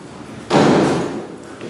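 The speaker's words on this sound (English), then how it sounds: "you can come out here and watch the door close" An old manually operated Haughton elevator door at the Allied Arts Building closes with a single loud slam and a short rattling thud that fades over about half a second.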